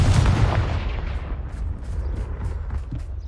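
A fire spell explosion cast in the Hogwarts Legacy video game: a loud, deep boom at the start that rumbles and decays into a broad roar, with a few faint crackling pops afterward.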